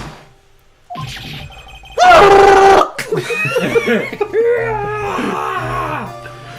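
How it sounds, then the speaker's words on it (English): A loud, strained scream from the video game Phoenix Wright: Ace Attorney bursts out, followed by groaning, gasping vocal sounds over a low background hum. "It's that scream I've heard in that elevator 15 years ago."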